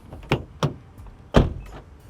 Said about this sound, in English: And listen to that door sound.